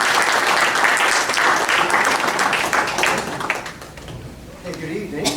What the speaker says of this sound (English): Let's give him a warm welcome and applause as he teaches us